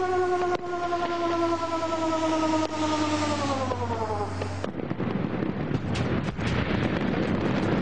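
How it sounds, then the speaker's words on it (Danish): Fireworks factory explosion and its pressure wave: a sustained siren-like tonal wail that abruptly gives way to a loud, broadband roaring rumble with crackling bursts, continuing to the end. "Eksplosionen og trykbølgen."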